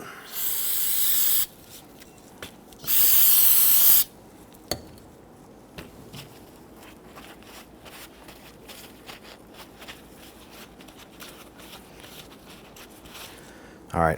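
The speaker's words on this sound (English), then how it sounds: "Use some spray solvent," Two sustained bursts of hissing aerosol solvent spray on a brake caliper bracket, a few seconds each, close by, followed by quiet scraping and faint handling noises.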